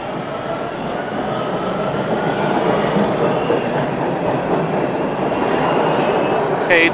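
Train 5235 runs along the rails, a loud, continuous rumble and rattle of a moving railcar with occasional metallic squeals and clatter, heard from on board or close by.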